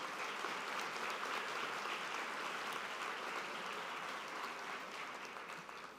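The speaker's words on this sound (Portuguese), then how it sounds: "eu peço uma salva de palmas pela presença de todos" Ceremony audience applauding during the installation of a new board, a steady dense wash of many hands clapping at a distance, holding level for about six seconds before easing slightly at the end.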